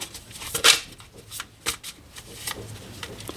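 A tarot deck is cut and cards are drawn by hand, close papery riffles, flicks and slaps in an uneven sequence of quick bursts, with no talking.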